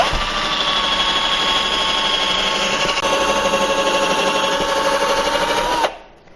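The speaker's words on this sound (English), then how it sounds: "So I'm going to make my first pilot hole here." A power drill runs at a steady, loud whine for about six seconds while boring a pilot hole into a stud behind drywall, then stops abruptly.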